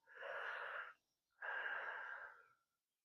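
Two close mouth breaths during a squat exercise, one drawn in and one pushed out, each a soft airy rush about a second long with a short pause between.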